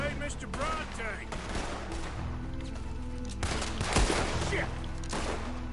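A gunfight rages in Red Dead Redemption 2, with steady overlapping gunshots and crashes filling the scene amid music and a shouted voice, one heavier blast standing out near the end.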